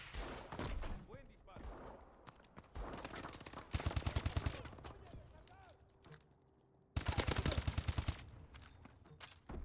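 Bursts of rapid gunfire in Call of Duty: Advanced Warfare on PS4, loud and close, with a gap of quieter activity between volleys and a voice talking at times.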